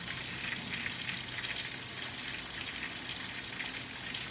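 Grouper fingers frying in hot grease, a steady dense crackling sizzle that holds evenly throughout with no voices over it.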